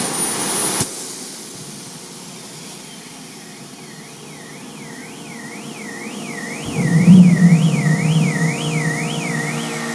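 A cooling unit for a homemade jet-engine motorcycle runs as a steady whine, with a warbling, wavering tone through the middle and a louder low rumble swelling near the end.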